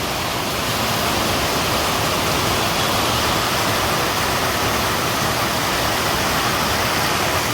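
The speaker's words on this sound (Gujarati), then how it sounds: "પાછો અત્યારે તો 4:30 વાગે ચાલુ થઈ ગયો છે વરસાદ મારે" Heavy rain in a village pouring steadily and loudly, a dense, unbroken hiss with no pauses.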